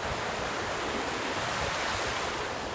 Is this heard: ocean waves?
yes